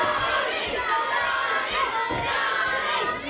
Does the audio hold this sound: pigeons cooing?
no